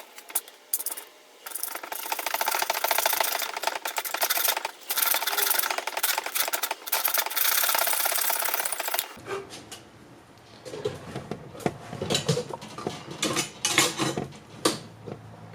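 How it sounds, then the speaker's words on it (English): Handsaw cutting through a pole clamped in a vise, dense continuous rasping strokes for about nine seconds, then lighter, scattered scraping and handling noises as the cut finishes. "So I'm just going to grab a handsaw and cut this bad boy up."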